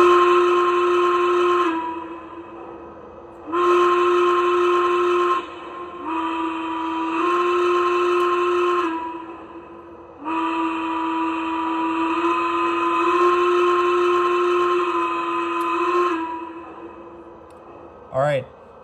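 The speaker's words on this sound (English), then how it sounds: "So first we have the whistle, which this is still one of my favorite whistles." Whistle of an American Flyer Mallet steam locomotive model train, a loud multi-tone chime blown in four long blasts of varying length with brief gaps, ending in a short squeak.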